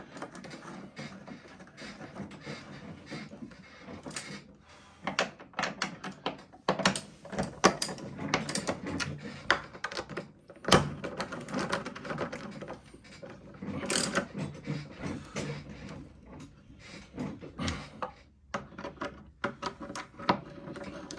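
Bolts being tightened on a fairground high striker give a run of ratcheting clicks and metallic knocks in irregular bursts, fairly close, with a few sharper clanks spread across the stretch.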